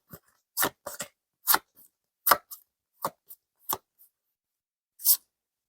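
Tarot cards being handled and drawn make about ten short, crisp slaps and flicks. They land at irregular intervals against a quiet background, close to the listener and with no talking.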